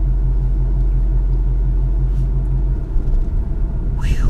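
A 2012 Ford Mustang GT rumbles along the road on a long trip, a deep steady engine drone inside the cabin with a brief higher chirp near the end and no talking.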